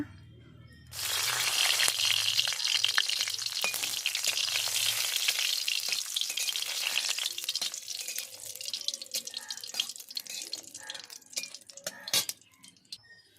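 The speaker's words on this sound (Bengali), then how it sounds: "তো ওই তেলে আমি শুকনো লঙ্কা 4টে ভেজে নেব।" Four dried red chillies dropped into hot oil for a fish-tail bharta, bursting into a loud, dense close sizzle that holds steady and then gradually thins with a few stirring clatters toward the end.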